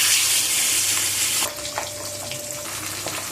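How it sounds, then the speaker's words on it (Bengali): Pabda fish frying in hot mustard oil in a kadai: a loud, dense sizzle for the first second and a half, then a softer crackle with scattered small pops. "তেলটাকে ভালো করে গরম করে নিয়ে মাছগুলোকে আমি এখন একে একে ভেজে নেব।"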